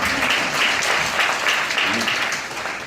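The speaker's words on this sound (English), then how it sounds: "Big hand for the desis out here in the crowd." Applause from a crowd at a live stand-up comedy show in Los Angeles, steady dense clapping held at an even loud level for about three seconds, tapering slightly at the end.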